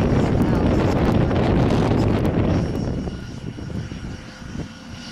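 A small single-engine airplane taxis toward takeoff at Aurora Municipal Airport. Its loud engine rumble is heavy with wind buffeting and then fades as the plane moves away.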